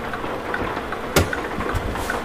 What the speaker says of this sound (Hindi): बंद करते हैं इंजन को।